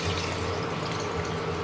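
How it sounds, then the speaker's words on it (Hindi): Water is poured into an iron kadhai of potato curry with spiced masala, a steady splashing stream that runs without pause at close range, with no talk. "अब इसमें डालेंगे पानी"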